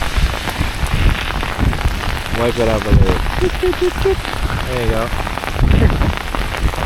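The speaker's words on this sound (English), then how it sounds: "Rain, rain." Heavy rain pours down in Puerto del Carmen, Lanzarote, a dense loud hiss of drops on surfaces filling the whole stretch, while someone speaks briefly over it.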